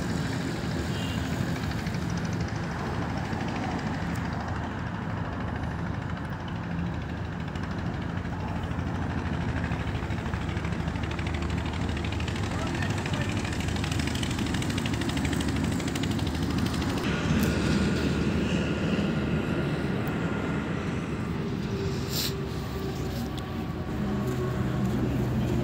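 A tractor engine labours up a slope, a steady rumbling drone that holds at a constant, fairly loud level for the whole stretch, with faint background noise and no clear speech.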